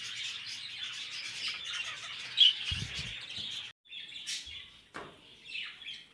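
Diamond firetail finches chirping beside their nest in a cage, a steady stream of high thin tweets with a few louder calls, close by and with no talk over them.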